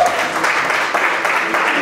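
Applause from an audience at a church family night fills the whole moment, dense and steady, with no voices heard.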